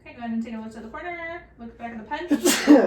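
A person talks briefly, then a single sharp, loud sneeze bursts out at the end.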